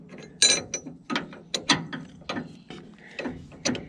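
A wrench ratchets on a bolt of a New Holland 474 haybine during mid-season maintenance: a run of sharp, close clicking bursts in an uneven rhythm, with no talk.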